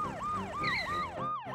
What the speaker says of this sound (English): Ambulance is here.